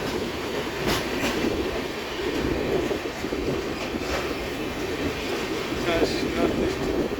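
North East express train passing close by in Assam, a steady loud rumble of rail wheels and carriages with faint clickety-clack running throughout, a few brief squeals and clanks over the continuous roar.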